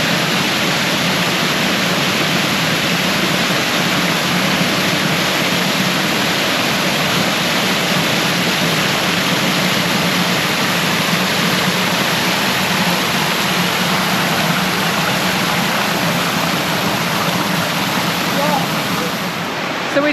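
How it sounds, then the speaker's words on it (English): Waterfalls at Carding Mill Valley roar in a constant, loud, even rush of falling water, unbroken throughout and heard close from the hillside. "you've got the gorgeous waterfalls at the back there"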